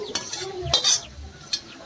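Mung dal is scraped and poured from a container into a pot of boiling water, giving a few brief, sharp clatters and scrapes with quiet bubbling between them.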